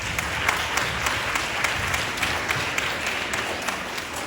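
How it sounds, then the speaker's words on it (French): Steady, dense audience applause at a school musical comedy performance, sustained clapping that stays even throughout without voices over it. "on peut encore les applaudir."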